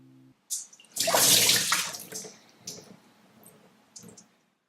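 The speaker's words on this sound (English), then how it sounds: "drain away the water from the rices." Water drains out of soaked sticky rice in a home kitchen: a short burst of splashing and pouring, then a few small trickles and clicks, close and fairly quiet.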